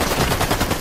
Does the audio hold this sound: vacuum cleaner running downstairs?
no